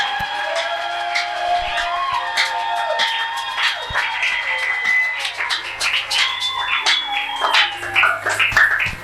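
A congregation at a prayer camp applauds and cheers, with scattered claps, whoops and ululating cries rising and falling over several seconds.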